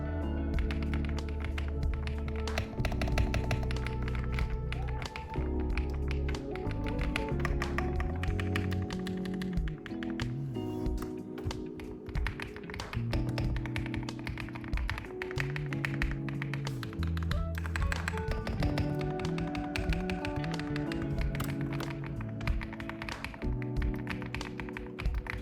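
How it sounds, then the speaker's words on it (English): Typing on a Gravastar K1 Lite keyboard fitted with Wandering Earth 2 Keytok keycaps, a steady run of close, dense key taps and soft thocks with no talk. "let's go ahead and do a sound test and see how the Mercury keycaps sound versus the UEG or United Earth"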